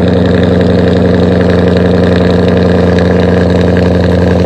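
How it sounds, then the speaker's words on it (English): A muscle car's loud aftermarket exhaust holds a steady, throaty idle rumble, close and continuous with no pauses or voices. "It kind of sounds like a Mustang with, like, a Corsa or a Borla."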